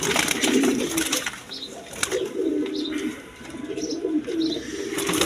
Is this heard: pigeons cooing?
yes